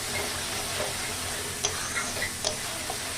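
Spice masala for a Bengali mutton curry sautés in a pan, a soft steady sizzle with occasional scraping stirs and small clicks, quiet and close with no voices.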